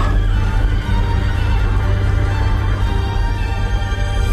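Horses neigh and hooves clip-clop alongside carriages in a large army procession from a zombie TV drama, loud and continuous against a dense, rumbling soundtrack.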